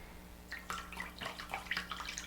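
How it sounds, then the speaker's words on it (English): Hands swish and splash through sprouting seeds in a bowl of water, a series of soft, irregular sloshes close by and fairly quiet. "you can just rinse them off from the top of the bowl with your hands"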